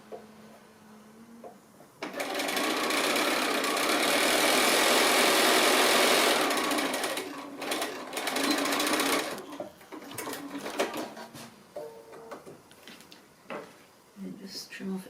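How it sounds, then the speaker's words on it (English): Sewing machine stitching close to the edge of a small drawstring bag made from leftover 2 1/2-inch fabric squares, a steady mechanical whir for several seconds, then stop-start bursts with some handling noise. "now I'm just going to stitch with the sewing machine along there"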